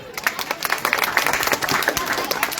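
Audience applause at a Pongal festival celebration in Madurai, a steady wash of many hands clapping together, fairly close and continuous with a few sharper individual claps standing out.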